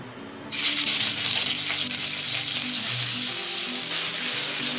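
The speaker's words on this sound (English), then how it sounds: "Now I am going to fry the paneer. Be careful, this will splutter." Paneer drops into hot oil and bursts into a loud, close, continuous sizzle with crackling splutters that persist to the end, no voices over it.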